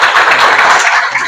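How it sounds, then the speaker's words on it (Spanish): An audience gives a brief burst of dense, loud clapping at an event, sustained throughout with no voices over it. "Vamos a hacer un aplauso."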